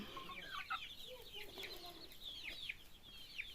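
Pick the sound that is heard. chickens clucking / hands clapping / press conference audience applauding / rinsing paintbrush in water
chickens clucking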